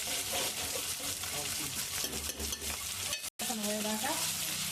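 Ginger garlic paste sizzles and fries in hot oil in a pan while being stirred for an andu chapala fish curry, a steady close crackle with spoon scrapes; a voice briefly speaks over it near the end.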